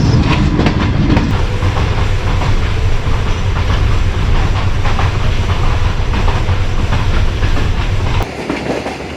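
The Mianwali Express rolls along the track after leaving Paikhel toward Daudkhel, a loud, close, continuous rumble with wheel clatter that drops off slightly near the end.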